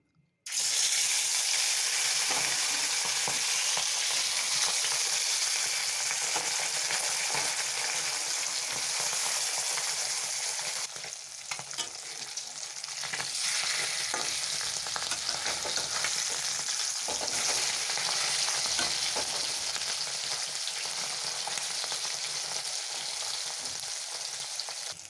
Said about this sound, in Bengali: প্রথমে মাছ ভেজে নেব